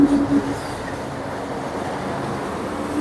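Heavy trucks rumble past on a road in northern Vietnam, producing a loud, steady low drone of engines and traffic noise that fills the whole stretch with no pause.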